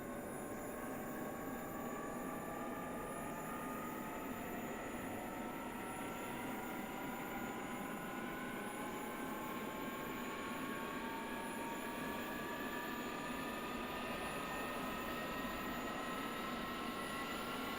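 A Su-35S jet engine spins up in the DCS flight simulator, a steady loud whine and roar with several tones rising gradually in pitch over a broad rumble, continuous and without talk.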